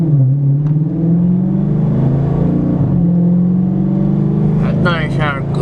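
A 2015 Dodge Charger R/T engine drones steadily and swells in pitch as it revs, loud and close, with a voice talking over it.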